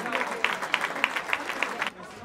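An audience at an award event at the Gangasagar Mela applauds with a run of evenly spaced claps under crowd chatter, and someone speaks over them.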